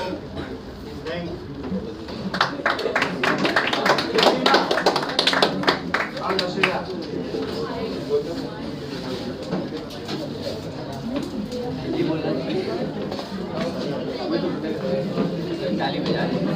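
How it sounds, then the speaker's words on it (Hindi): Clapping at a coaching class promotion party: a burst of many hands applauding for a few seconds, dense and close, fading as people talk over and after it. "ताली बजा रहे हैं।"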